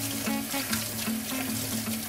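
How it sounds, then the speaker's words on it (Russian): Hot water runs from a tap over a greasy frying pan as a sponge rinses it, a steady close pour broken by small splashes and shifts in the stream. "под струей горячей воды с помощью губки я ополаскиваю сковородочку"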